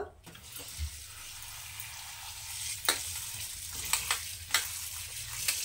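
Coriander leaves washed by hand in water, a steady wet swishing and trickle with a few splashy sloshes toward the end, close and moderate in level.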